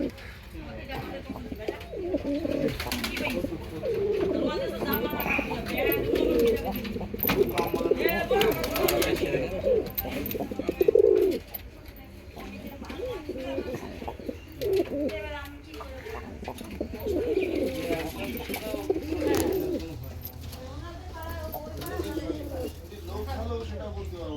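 Pigeons coo repeatedly and close by in a pigeon loft, a soft rolling chorus with occasional chirps and some faint voices in the background.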